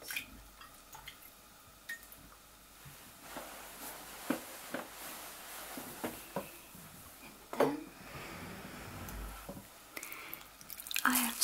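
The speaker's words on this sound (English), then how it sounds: "Now, just going to rinse my hands." Hands are rinsed in water during a spa treatment, soft drips and small splashes trickling irregularly, quiet and close with occasional louder splashes.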